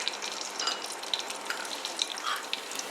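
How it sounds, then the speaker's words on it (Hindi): Whole garam masala spices, cumin, dried coriander and black peppercorns, dry-roasting in a pan, a soft close crackle with scattered small pops and ticks, no talking. "2 मिनट के लिए इसे भूनते हैं।"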